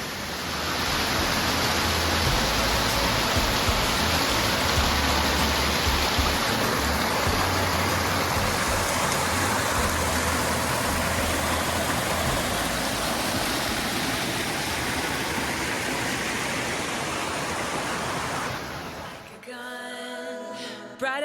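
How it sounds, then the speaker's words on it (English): Comer's Creek Falls on the Appalachian Trail pours in a steady, full roar of rushing water that stays close and constant, then cuts off abruptly near the end. "This one is called Comer's Creek Falls."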